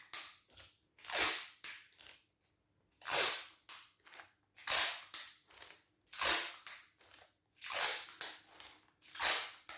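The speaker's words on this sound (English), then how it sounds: "I'm going to cut myself about 10 bits of sellotape" Sellotape pulled off the roll in sharp bursts and snipped into about ten strips of varying lengths, giving a series of loud, close rasping rips that repeat roughly every second with silent gaps between.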